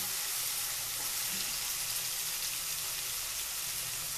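Vegetables and tomatoes sizzle steadily in a hot pan while masala oats are cooked, a continuous close frying hiss with no talking.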